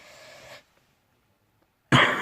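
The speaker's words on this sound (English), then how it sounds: "You really don't want to just sit here and listen to me cough" A person who is ill coughs: a short rasping burst, a pause of near silence, then a louder harsh cough close to the mic.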